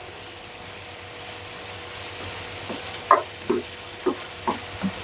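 Fried okra being stirred into tomato masala in a pan on medium heat: a soft sizzle, then five sharp spoon scrapes and knocks against the pan in a loose rhythm, close and clear.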